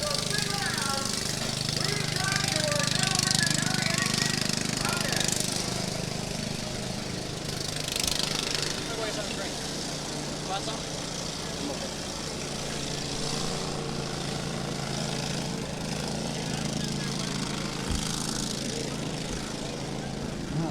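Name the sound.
lawn mowers racing in county fair derby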